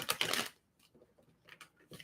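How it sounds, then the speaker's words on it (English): A deck of tarot cards is shuffled up close, with a dense riffling burst followed by a few softer, scattered flicks of cards. "One more shuffle for you"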